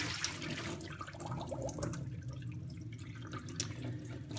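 Tap water running steadily over sprouted buckwheat being rinsed in a strainer, a continuous close splashing wash with no voices.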